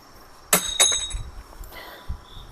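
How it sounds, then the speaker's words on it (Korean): Hammer striking die-cast aluminum scrap, two sharp metallic clinks with a ringing tone, followed by fainter knocks and handling noise, close and with no talking. "이제 요거 이렇게 끼워 가지고 망치로 톡 되는데"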